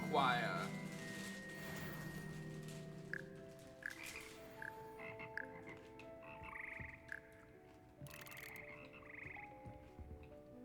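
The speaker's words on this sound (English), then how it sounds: "The frog choir." Frogs in the Hogwarts Legacy video game croak together as a frog choir, with repeated short croaks layered over a steady ambient bed, while a voice speaks briefly near the start.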